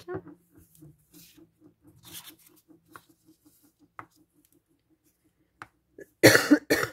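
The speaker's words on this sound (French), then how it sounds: "Excusez-moi, je tousse encore." After a quiet stretch with faint regular ticking, a loud, harsh cough bursts out close by near the end.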